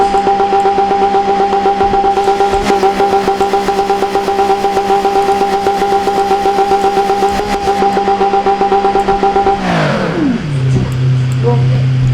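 A simulated car engine in the BeamNG.drive driving game holds a steady loud drone with stacked harmonics for about ten seconds, then drops sharply in pitch as the revs fall to a lower hum.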